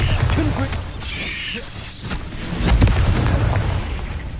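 A Bombarda spell explodes in Hogwarts Legacy with a deep rumbling boom over dense mechanical clanking and ratcheting game sounds that run throughout.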